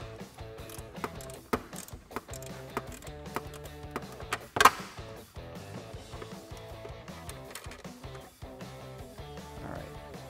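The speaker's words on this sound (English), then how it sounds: "You don't have to ratchet this whole thing off the entire way." Ratchet with a 10 mm deep socket loosening a nut on a 2018-2019 Mustang GT or EcoBoost bumper vent; quiet rapid clicking ratchet strokes in short bursts, with one sharper clack midway.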